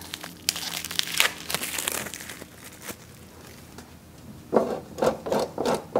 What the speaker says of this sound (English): Grate up a little bit of Parmesan.